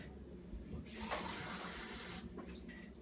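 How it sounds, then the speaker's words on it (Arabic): Three cups of plain cold water pour into a flour batter mixture for qatayef, a soft, brief splashing gush in the middle of a quiet kitchen setting. "ثم نضع فوق هذا 3 أكواب من الماء البارد العادي"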